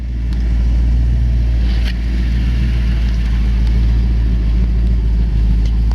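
A 1932 Ford Roadster built by Boyd Coddington, its all-aluminum engine running at a steady, close, loud idle with a deep low rumble and no voices.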